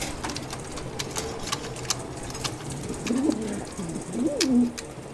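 Pigeons coo in soft, throaty, rolling calls close by, with a couple of clear coos near the end over a steady background and scattered light ticks.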